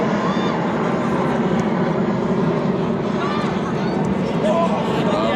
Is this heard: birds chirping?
no